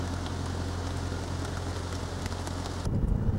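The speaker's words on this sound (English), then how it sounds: "And yeah, it's raining." Steady rain falls at Lake McDonald Lodge, halfway up Lake McDonald, as a continuous dense patter under a low hum, with a rougher, gustier stretch near the end.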